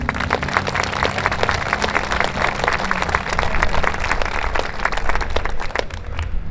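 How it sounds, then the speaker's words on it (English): A crowd at an outdoor Memorial Day ceremony in Oxnard, California claps steadily and densely for a high school alumni band, the applause holding at a fairly loud, even level throughout. "I'd like to get a round of applause for the Channel Islands High School Alumni Band who's joining us today"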